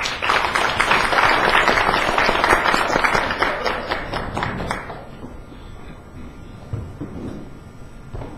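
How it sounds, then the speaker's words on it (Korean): A lecture audience claps loudly and steadily for several seconds welcoming a speaker, then the applause quickly dies away into a quieter room murmur. "큰 박수로 맞이해 주시기 바랍니다"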